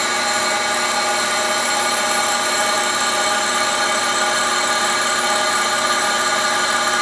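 A Hendey T&G lathe taking a light cut gives a loud, unbroken mechanical drone with a steady tonal hum. It stays constant and close throughout, with no breaks.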